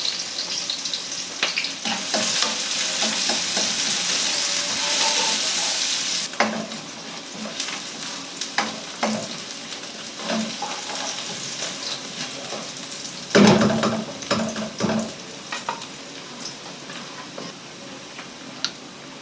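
Garlic for chicken curry frying and being stirred in a pan, with a loud steady sizzle over the first six seconds, then quieter crackling and scraping stir strokes, plus a brief louder burst of sizzling near the end.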